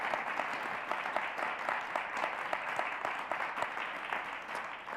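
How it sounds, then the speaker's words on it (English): A lecture audience at a dean's forum on Exodus gives sustained, dense applause that holds steady for the full stretch, a close, even wash of many hands clapping with no voices over it. "I just ask that you thank her warmly with applause"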